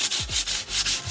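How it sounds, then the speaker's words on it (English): Coarse 60 grit sandpaper rubs back and forth along a wooden stick, making rhythmic, close, scratchy strokes about four times a second with no talk. "You want to sand back and forth like this until all the splinters are off."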